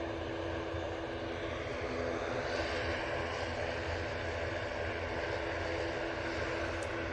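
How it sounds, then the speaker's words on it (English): A TUI Boeing Dreamliner at Manchester Airport, its jet engines producing a steady, fairly distant roar with a broad rushing hiss that swells slightly midway and holds evenly to the end, with no talking. "There's that TUI Dreamliner"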